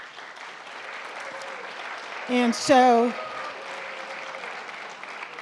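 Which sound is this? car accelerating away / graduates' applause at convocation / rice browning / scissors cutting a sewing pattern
graduates' applause at convocation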